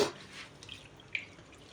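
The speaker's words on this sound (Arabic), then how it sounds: "العدس هذا لازم يتغسل مليح" Red lentils being rinsed in water, a short wet splash and drips, faint and close, with no talking.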